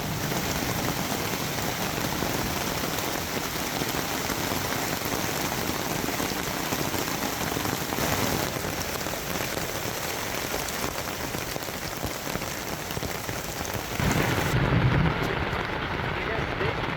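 Heavy rain pours steadily over a river campsite during a thunderstorm, a dense unbroken wash of drops on tarps and ground that stays loud throughout, with a brief low rumble near the end.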